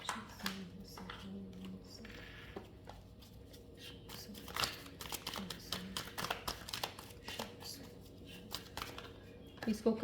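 A deck of angel cards is shuffled in soft, irregular riffles and taps while a person talks intermittently over it.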